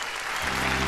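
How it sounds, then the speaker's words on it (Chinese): A studio audience on a Chinese TV relationship show breaks into a dense burst of clapping partway through, quickly swelling to full, steady applause with no talk over it. "掌声欢迎今天第一位女主角瑞瑞跟我们见面"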